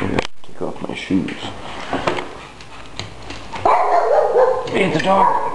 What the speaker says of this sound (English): Hey, the dog!